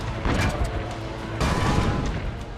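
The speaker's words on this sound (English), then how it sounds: "Load the cannon. Destroy their cannons," Siege cannon fire in Assassin's Creed Brotherhood, with dense, booming blasts and crackling explosions rolling together in a loud, continuous barrage.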